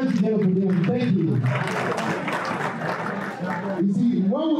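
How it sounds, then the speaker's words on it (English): Audience applause at Kuffour's 50th birthday event in Atlanta, a few seconds of steady clapping rising between a speaker's voice at the start and end. "when we give them that applause"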